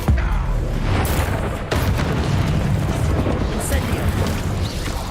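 Incendio fire spell cast in Hogwarts Legacy, a loud, continuous roaring burst with booming, crackling texture and short sharp onsets, filling the whole span with busy game noise.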